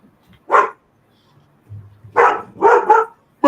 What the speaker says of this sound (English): Even the dogs are barking for it.